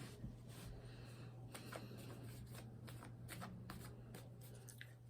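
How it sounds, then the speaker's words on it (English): Tarot cards shuffled and drawn by hand, a run of soft, quick riffling and flicking bursts close up, quiet and unhurried, with a steady low hum underneath and no talking. "So it feels like let's draw a couple more cards."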